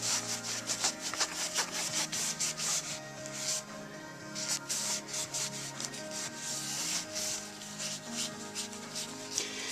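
A cloth rubs and wipes briskly over a sanded 1920s bakelite dial being cleaned with Windex, a steady close scrubbing rhythm of repeated strokes with no talking.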